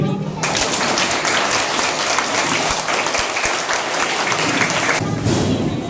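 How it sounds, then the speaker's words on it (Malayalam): Loud, dense applause from an audience for an artist at a school reading-room event, a steady roar of clapping that lasts several seconds and then stops abruptly, with a voice heard faintly at the edges. "എന്നാ നല്ലൊരു കൈയടി"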